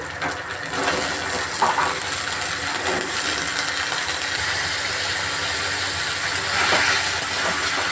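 Potatoes frying in a hot pan of oil with poppy seeds for aloo posto. A bright, continuous hiss of sizzling is heard close by, with occasional soft taps and no voices.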